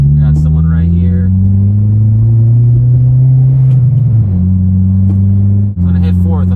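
Honda Civic Si with an aftermarket exhaust pulling away from a red light and shifting through the gears, a loud steady engine drone rising in pitch, then dropping at a shift before climbing again, with someone talking briefly over it.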